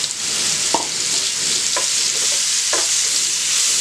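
Cut fresh figs sauté in a hot pan for a fig dessert: a constant close sizzle with several short scraping strokes as a spatula stirs them.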